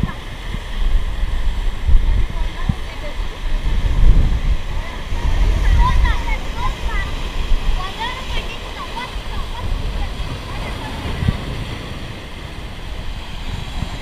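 Waves wash onto Chivla beach in Sindhudurg on the Konkan coast, a continuous roar of surf mixed with gusty wind noise, with soft swells rising and falling throughout.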